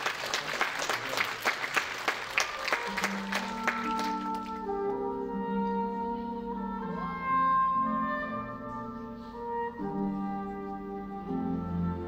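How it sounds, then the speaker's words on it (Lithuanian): An audience at an international circus festival competition applauds loudly with dense clapping for about four seconds, then the applause stops and music plays. "Audringi jūsų plojimai."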